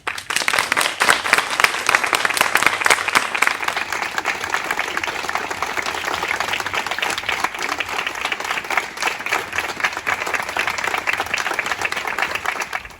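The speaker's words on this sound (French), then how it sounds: "je vous demande de vous lever et d'applaudir votre professeur." Students at a Belgian secondary school graduation ceremony, Lycée Maria Assumpta, stand and applaud their teacher, a dense, steady round of clapping that fills the room and holds evenly throughout.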